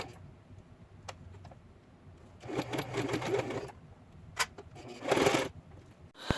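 A sewing machine stitches a thick gathered purse handle onto a body piece, two short bursts of rapid mechanical running separated by pauses with small clicks, fairly quiet and close.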